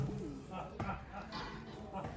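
Soft, low pigeon cooing sounds faintly at close range, mixed with people talking nearby.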